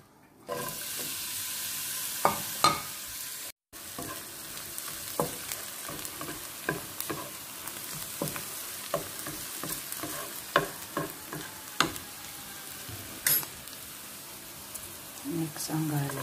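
Onion and garlic frying in a pan while being stirred: steady close sizzle with repeated scraping stir strokes throughout, a brief cut partway through, and some talk over it.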